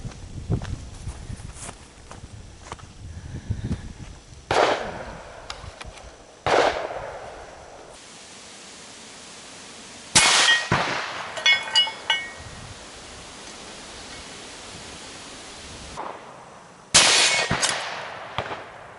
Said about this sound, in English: We'll do a little shooting on this now to tenderize it.